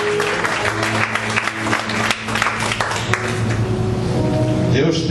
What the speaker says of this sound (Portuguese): Eu precisava de palmas para o Criador.